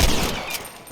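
Gunfire during a shooting contest in Red Dead Redemption, a short burst of sharp reports opening with a loud crack and trailing into a noisy decay, with no talking.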